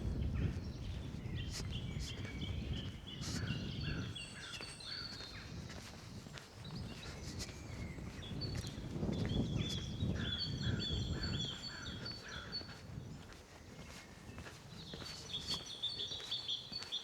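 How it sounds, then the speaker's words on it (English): A songbird sings loud repeated phrases in bursts over outdoor rustling and wind, the song carrying clearly from fairly close by. "Very loud song thrush."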